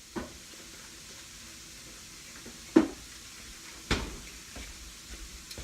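Salmon and cauliflower rice sizzle in a pan as a steady, soft frying hiss, broken by a few sharp clicks and knocks of utensils or cookware.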